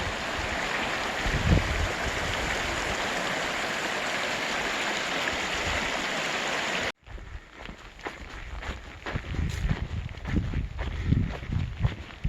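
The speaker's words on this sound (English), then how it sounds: "Just get to cross this little creek here" A small creek in the Montana wilderness burbles steadily as a hiker crosses it, the wash loud and continuous at first, then dropping to closer, choppier splashes and steps in the water.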